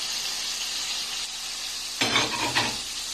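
Chopped onion frying in a hot pan gives a steady, soft sizzle, then a louder burst of crackling and stirring as more goes in, fairly close and with no talking.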